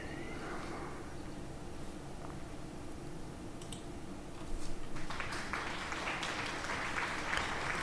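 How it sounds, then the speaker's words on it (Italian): A crowd applauds during a World of Tanks Blitz training session, with a quieter background at first and clapping that swells into a dense, steady burst after about four seconds. "Facciamo un bel applauso."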